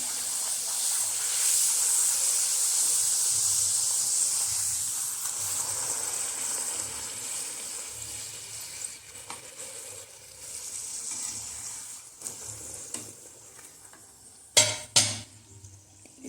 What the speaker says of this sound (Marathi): पुऱ्या तळल्या जातात.